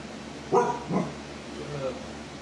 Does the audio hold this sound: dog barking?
yes